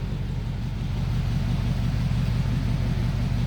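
A 1949 Mercury Eight car engine idles steadily nearby, a low continuous rumble with an even throb and no voices.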